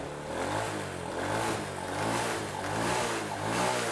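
A Honda Supra motorcycle with a weak, underpowered engine revs up and down close by, a continuous engine drone that rises and falls in gentle waves.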